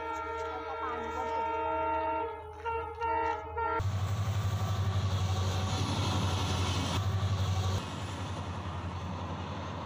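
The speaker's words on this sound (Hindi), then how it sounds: "जंगल के बीचों बीच से गुजरता हुआ रेल की पटरी आपको दिखाई देगी जिसमें से अभी एक रेल आने वाली है" A train on a railway track running through forest in a wildlife sanctuary, its horn sounding first in long tonal blasts, then a loud, steady rumble and rattle of cars rolling past nearby.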